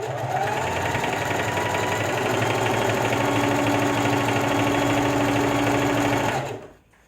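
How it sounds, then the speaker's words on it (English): A sewing machine stitches fabric for face masks in a steady, fast mechanical whir and rattle that runs continuously, then winds down and stops near the end. "And now I'm going to stitch through."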